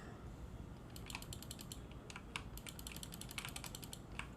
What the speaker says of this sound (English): Why does it sound like I'm typing on a keyboard?